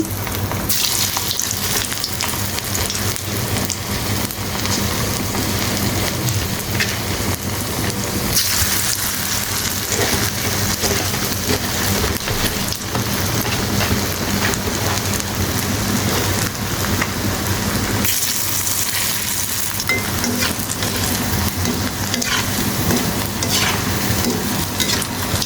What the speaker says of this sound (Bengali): চুলা একটি হাঁড়ি বসে তার মধ্যে ডুবো তেল দিয়ে দিয়েছি আমি তেলের মধ্যে দিয়ে দিচ্ছি